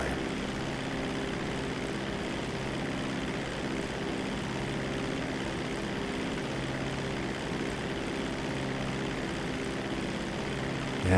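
A propeller plane flying in GTA Online, its engine a steady, even drone that holds at constant loudness throughout with no voices over it.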